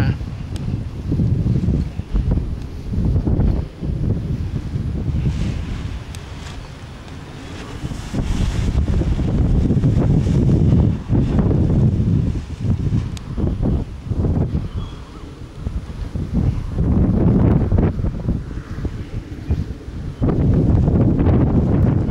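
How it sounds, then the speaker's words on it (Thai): Strong gusting wind buffets the microphone outdoors during an APCO ForceM paraglider trimming session, a continuous low roaring rumble that swells and eases in surges throughout. "วันนี้ลมแรงนะครับ"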